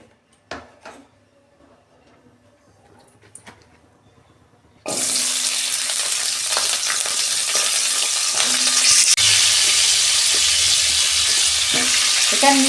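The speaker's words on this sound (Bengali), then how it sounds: "তেল দিচ্ছি কড়ায়। সবজিগুলো প্রথমে আমি ভেজে নেব।" Cabbage and other vegetables hitting hot oil in a wok, starting with a few quiet clinks, then a sudden loud burst of sizzling that holds steady and close, with occasional stirring scrapes.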